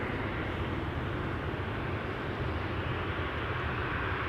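An SAS Cargo aircraft at Amsterdam Schiphol Airport gives off a steady, distant jet roar that holds a constant level throughout.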